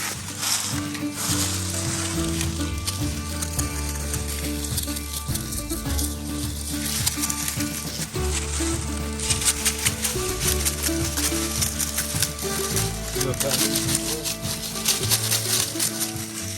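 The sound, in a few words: livestock rustling while eating maple and elm tree hay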